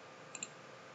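Two quick, faint computer mouse clicks in close succession, sharp and dry against a quiet background while working in Revit.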